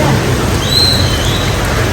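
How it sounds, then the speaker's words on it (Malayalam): Heavy rain pours down in a constant roaring hiss, with gusty wind mixed into the loud, unbroken wash of sound during a thunderstorm. "നല്ല മഴയുണ്ട് കാറ്റും മഴ ഇടിയൊക്കെ ഉണ്ട്"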